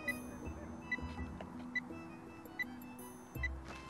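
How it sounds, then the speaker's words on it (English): A drone's short electronic beeps repeat at a steady pace, faint and thin over a low hum, with no talking. "It's beeping."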